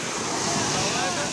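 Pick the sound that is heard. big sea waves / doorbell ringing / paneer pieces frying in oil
big sea waves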